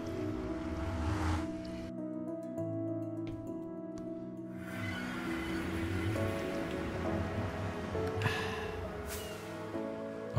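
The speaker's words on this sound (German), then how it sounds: "Oh, es regnet." Rain falling in the video game Minecraft, a steady, even hiss that lasts throughout, over sustained game tones, with no talk.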